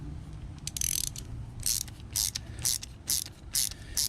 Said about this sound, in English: I got 10 on the bolt head, crescent wrench on the nut head.